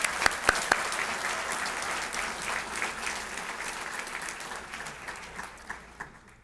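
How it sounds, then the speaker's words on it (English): An audience at a county address applauds, dense steady clapping from a crowd filling the room, with a few sharp near claps at the start and the applause tapering off at the end. "All right, let's give them a round of applause."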